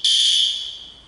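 A single loud, piercing electronic fire alarm tone from a fire alarm control panel during testing sounds at once, then fades over about a second.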